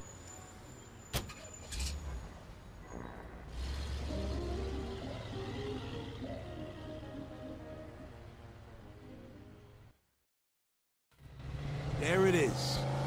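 Car driving in the Mafia 2 video game, a steady engine drone with road noise under a voice, dropping to silence for about a second before resuming louder with tonal sounds.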